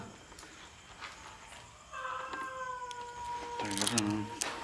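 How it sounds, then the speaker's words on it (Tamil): A crying cat yowls in long drawn-out wails, loud and close, starting partway through and ending in a harsher, strained cry over a faint noisy background. "அழுவ பூனை அழுகிற சவுண்ட்"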